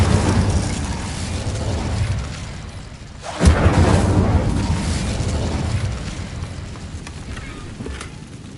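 A fire spell blasts off in a video game: a brief rumble, then a sudden booming burst with a whoosh, followed by a lingering roar that fades away.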